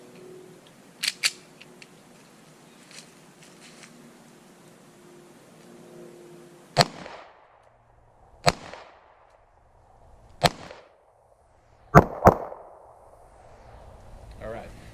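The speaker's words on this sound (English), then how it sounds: "We'll try to do, again, 3 single shots with this one and 2 quick back-to-back rounds." Springfield XDS 9mm pistol fired outdoors: three spaced single shots, then two quick back-to-back shots, each a loud sharp crack with a short echoing tail, close by.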